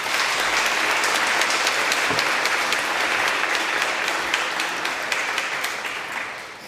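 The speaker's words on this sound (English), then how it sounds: "An applause for them, to them." An audience at a master's programme closing ceremony gives the group leaders sustained, loud applause, dense and steady throughout before tapering slightly at the end.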